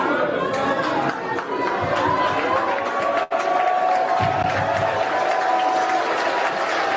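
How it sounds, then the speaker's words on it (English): Studio audience applauding and murmuring on a talk show, a steady wash of claps and crowd chatter with a brief dropout in the middle. "I don't know why they're applauding."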